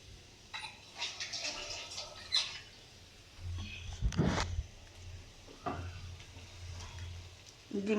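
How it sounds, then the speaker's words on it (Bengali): A cracked egg fries in a pan alongside shrimp cooked with spices: a soft, low sizzle broken by intermittent stirring scrapes and a few louder spatters. "ডিমটা ভালো করে ভেজে নেব।"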